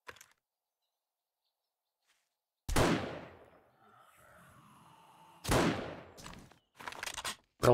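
Gunfire in the game 7 Days to Die with a Wild West mod: two loud, sharp shots a few seconds apart with ringing decay and faint game ambience between them, then a third shot cut short at the end.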